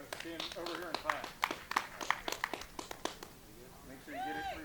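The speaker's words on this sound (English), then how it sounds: "I'm just going to stand over here and clap." Scattered hand claps at a graduation ceremony, a quick uneven run of sharp claps heard close, under and between ongoing talk from people nearby.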